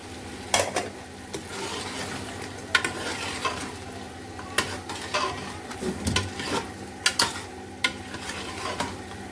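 Tinda, green chillies and meat fry in a pan and are stirred, a steady close sizzle broken by repeated sharp clinks and scrapes of the spoon against the pot.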